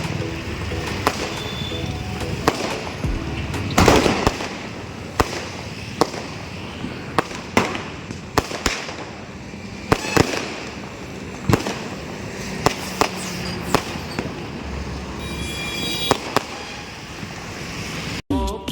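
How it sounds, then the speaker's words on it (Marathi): Diwali firecrackers and fireworks burst repeatedly outdoors, sharp loud bangs scattered irregularly over a constant crackling background of distant explosions, with no talk. "एवढे फटाके वाजत होते"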